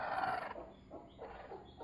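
A newly set brooding hen makes soft, low clucking and gurgling calls, faint and close, in an otherwise quiet setting.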